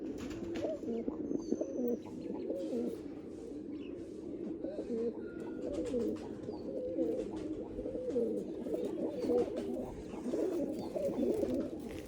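Blue pigeons coo softly and repeatedly throughout, a low burbling chorus with a few faint chirps, close by and uninterrupted by talk.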